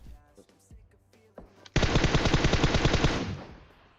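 Sustained automatic gunfire from the video game PUBG Mobile, a loud rapid burst of shots starting abruptly and rattling for about two seconds before tapering off, preceded by faint scattered game sounds.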